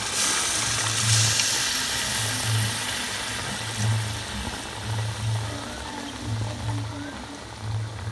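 Water poured into a hot karahi of masala fish curry, a steady hissing splash with a low, rhythmic hum pulsing underneath.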